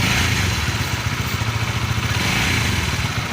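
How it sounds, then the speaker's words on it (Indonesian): A 2018 Honda CBR150R motorcycle engine runs steadily at a low rumble with a rhythmic, slightly clattery throb and a mild rise in revs, close and continuous with no talking. "Coba gua gas dulu,"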